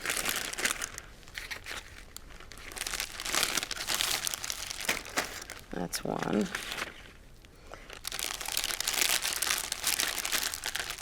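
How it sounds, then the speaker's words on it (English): A plastic bag crinkles and rustles through most of the clip as food goes in to marinate, a soft crackly texture running under a person speaking nearby. "I'm going to put it right in this plastic bag."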